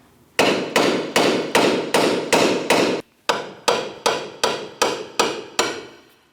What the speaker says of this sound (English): Let's attempt to tap first with a hammer.